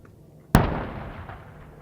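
A single mortar round fired by American soldiers on a Syrian battlefield, one sharp, loud blast followed by a long booming decay.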